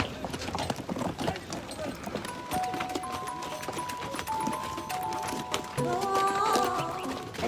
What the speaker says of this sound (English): we're riding horse